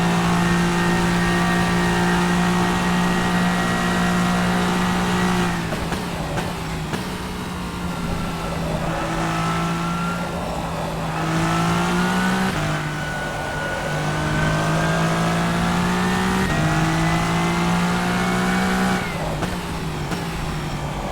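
An LMD Hypercar races in rFactor 2, its engine loud and close with a sustained high whine that climbs through the revs, drops sharply at each gear change or braking point, then rises again, several times over.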